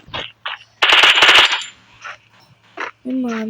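Gunfire in the Free Fire video game: a few sharp single shots, then a loud rapid automatic burst, followed by more scattered pops and a short game tone.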